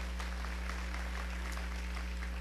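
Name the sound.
applause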